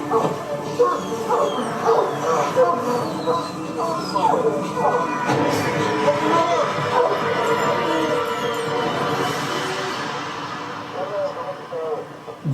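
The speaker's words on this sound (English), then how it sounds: "she's a cadaver dog, so she's not taking an interest" A cadaver dog barks and yips in short bursts with some whimpering, set among overlapping talk and shuffling for most of the stretch.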